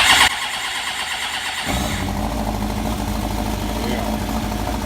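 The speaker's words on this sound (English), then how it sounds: "Get the bike some choke, and then we just start it." A motorcycle being readied for a track day cranks over with the choke applied, then catches and settles into a steady, close, loud idle running through the rest of the clip.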